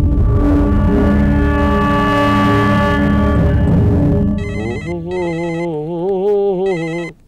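A telephone rings in a Telugu film scene, a repeated electronic warble in several bursts rising over a loud music track that fades as the ringing takes over.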